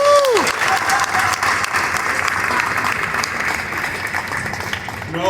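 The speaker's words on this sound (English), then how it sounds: "Give them a round of applause." Applause with cheering breaks out from an audience at a Homeless Children's Education Fund speech event, dense and steady and fairly loud throughout, with a few whoops near the start.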